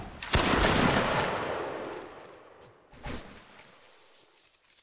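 A musket volley in a Napoleonic line battle video game goes off as one loud crackling burst, then fades, followed by a smaller distant volley and faint sporadic shots.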